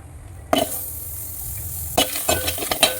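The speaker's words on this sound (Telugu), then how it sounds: "వితౌట్ ఆయిల్ చేసి ఫస్ట్ ఇలా బ్రౌన్ కలర్ వచ్చేంత వరకు ఫ్రై చేసుకుందాం" Chopped onions fry in a dry pan with no oil, giving a soft sizzle under sharp clinks and scrapes of a spoon stirring against the metal in quick bursts, close up and with no voices.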